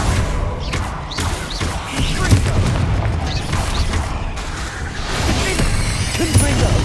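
Confringo explosive spell blasts in Hogwarts Legacy combat, thumping booms and bursts repeating within a busy, loud game mix of clashing effects.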